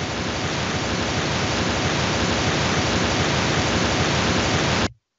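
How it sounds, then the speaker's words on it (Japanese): Continuous pink noise hisses at an even, fairly loud level for about five seconds, then cuts off abruptly into silence, with no other sounds present. "ピンクノイズ。"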